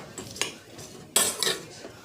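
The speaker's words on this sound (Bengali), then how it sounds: "এবার লবণ হলুদ মেখে নেবো মাছে" Fish being mixed by hand with salt and turmeric in a kitchen gives a few short, sharp clinks and scrapes against a dish, close and isolated.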